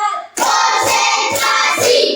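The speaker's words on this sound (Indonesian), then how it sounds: "tepuk 1, tepuk 2, tepuk 3, tepuk 4," Four sharp, loud claps spaced evenly about half a second apart, ringing with a bright, hissy tone and nobody speaking.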